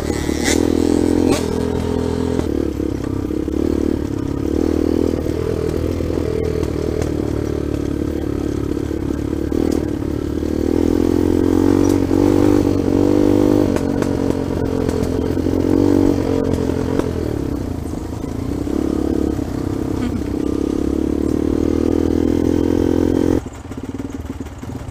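A trail motorcycle engine roars steadily while accelerating on a dirt trail, loud and close, with a strong low rumble and rising revs throughout, cutting off abruptly near the end.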